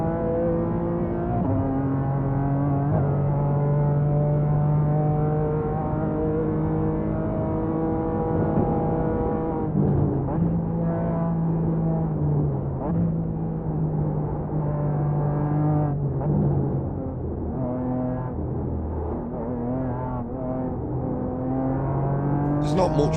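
A BMW GT4 race car engine in iRacing at the Nürburgring, a steady loud drone with strong harmonics that shifts pitch as it revs up and down through gear changes, continuous for the whole stretch.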